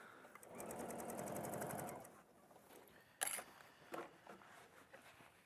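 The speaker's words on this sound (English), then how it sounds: "So now I'm sewing at 1 centimetre." A sewing machine with a walking foot runs a fast, steady stitching burst through thin fabric for about two seconds, then stops; a few soft handling clicks and knocks follow at close range.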